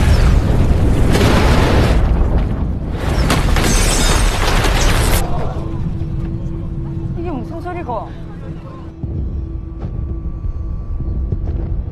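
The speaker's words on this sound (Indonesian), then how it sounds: "reaktor pun meledak." A nuclear reactor explodes in a disaster movie scene: loud, dense roaring blasts for several seconds, then rumbling debris and clattering with faint tonal sounds as the noise thins out.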